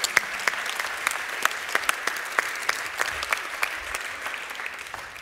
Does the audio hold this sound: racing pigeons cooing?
no